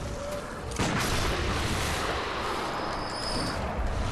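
A gunshot fired in the video game Bloodborne, a sudden loud blast that gives way to a sustained roaring rumble of gunfire and explosive din lasting several seconds.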